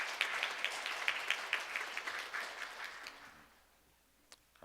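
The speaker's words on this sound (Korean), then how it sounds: "우리 박수로 한번 환영하겠습니다." A church congregation claps to welcome a newly introduced member during a Sunday morning service, a steady patter of many hands that fades away over the last seconds, with a couple of faint knocks near the end.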